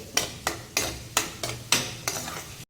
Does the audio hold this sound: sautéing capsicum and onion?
yes